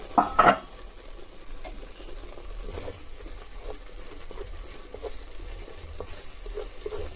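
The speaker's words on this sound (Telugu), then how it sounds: "కాసేపు మూత పెట్టి ఉడికించుకుందాం చూసారా ఎలా ఉడుకుతుందో" Coriander chutney cooking in oil in a covered pan, a soft steady sizzle and bubbling after a brief clatter at the start, with faint scattered pops and no voices.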